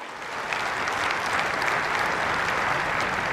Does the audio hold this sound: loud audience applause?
yes